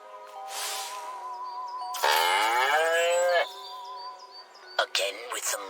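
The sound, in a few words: cow mooing in the video game Destroy All Humans!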